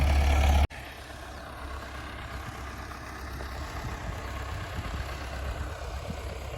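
A small combination cultivator engine runs steadily nearby with a rough, continuous drone, holding a constant revving level after a brief cut at the start.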